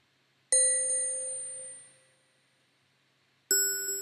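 Two bright bell tones in a hip-hop beat, each a sharp ding with shimmering overtones; the first rings out and fades over about a second and a half, then after a pause a second strike comes in near the end.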